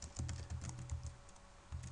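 Typing on a computer keyboard at a Linux terminal, a quick run of close, soft key clicks followed by a short pause and a few more presses, quiet and without speech.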